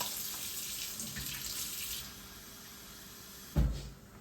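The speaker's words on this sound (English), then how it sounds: "I'm just gonna put some water in it to dissolve it" Water poured from a tap into a bowl of yellow pap to dissolve it for akara: a steady running hiss for about two seconds, quieter afterward, then a brief heavier splash near the end, with no talk.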